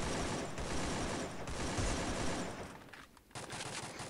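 Free Fire video game gunfire rattles in dense, loud automatic bursts that run almost continuously, dipping briefly near the end before resuming.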